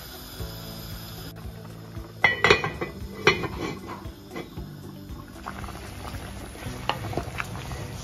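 Rabbit soup boiling in a cooking pot, giving a steady low bubbling simmer with a few sharp clinks of a pot or utensil near the middle; no voices.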